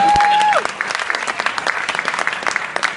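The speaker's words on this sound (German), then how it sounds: "Ein Applaus für die Liebe?" A crowd bursts into steady applause, many hands clapping densely after a brief tone at the start, continuing evenly throughout.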